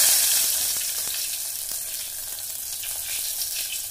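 Two bay leaves sizzle in hot oil in a steel pot on a gas stove, a loud, close, continuous crackling hiss with small sputtering pops and no voices.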